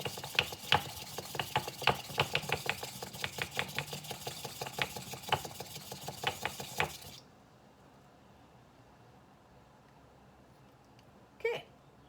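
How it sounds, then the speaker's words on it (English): A bamboo whisk beats matcha green tea in a bowl, making a quick, regular run of close scratchy strokes for about seven seconds. The whisking then stops, leaving near quiet and one brief clink. "you have a bamboo whisk. And so now I'm going to whisk this up"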